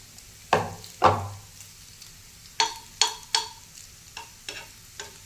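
Maggi noodle tikkis fry in a hot pan, crackling and sizzling with a series of sharp spatula scrapes and stirs, some louder and close, fading between strokes.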